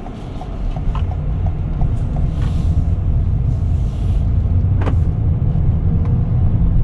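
A steady low engine hum and road rumble from inside a moving 2019 Toyota RAV4 G with a Direct Shift CVT, quiet and even, with a few faint clicks and a brief higher whoosh.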